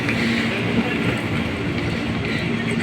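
A commuter train on the Bogor loop line rumbles past close by with a steady, continuous roar and faint rail clatter throughout, no voices.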